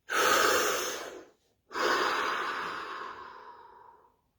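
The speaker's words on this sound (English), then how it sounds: "Deep breath." A person takes one long deep breath in a quiet room: a close, airy inhale, a brief pause, then a longer exhale that slowly fades out.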